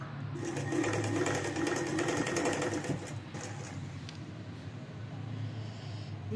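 Electric sewing machine stitching two pieces of fabric for a child's skirt, a fast steady whirring rattle close up that slows and softens after a few seconds, with no talk.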